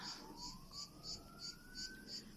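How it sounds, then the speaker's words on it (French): A distant emergency siren wails in the background during a wildfire, a rising tone beneath a repeating high pulsing alert, fairly faint and continuous. "Les sirènes n'arrêtent pas."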